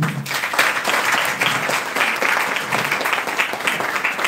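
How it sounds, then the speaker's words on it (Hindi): A crowd applauds loudly and steadily, many hands clapping in a dense, continuous roar that fills the room throughout. "अपने लिए जोरदार ताली बजाइए"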